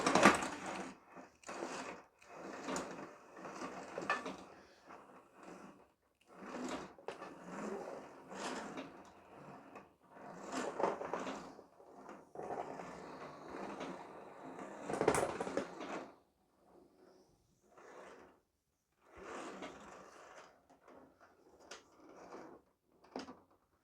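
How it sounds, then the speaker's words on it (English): A Vevor 20 m retractable air hose with a PVC hose reinforced by a double gauze layer reels in while held back, giving a series of irregular close clattering and ratcheting bursts with short pauses between them. "I'm not going to let go of the hose as I retract it because it'll probably take the tripod and camera out"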